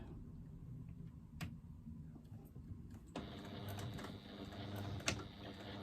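A sewing machine runs a short back stitch, starting quietly with a few clicks and then whirring into a steady, faint mechanical hum with a sharp tick near the end.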